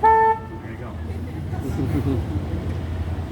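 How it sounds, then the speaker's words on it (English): River cruise boat horn on a city riverwalk, one short loud toot at the start, followed by engine rumble and a person talking. "whenever I tell a lame joke, I toot my horn"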